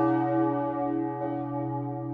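Church bells of the collegiate church of Romont, Switzerland, ring with a steady, resonant hum of overlapping tones, swelling slightly as another strike lands midway; no voices.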